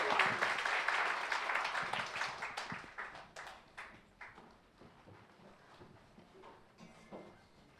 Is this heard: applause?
yes